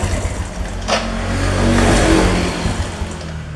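A Honda Revo FI motorcycle engine with ignition and injector trouble is revved, a steady close mechanical roar that swells in the middle before easing slightly, with no talk over it.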